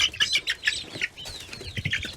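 Chickens cluck and chatter in quick, uneven bursts at close range, with some layered calls from several birds and no talking.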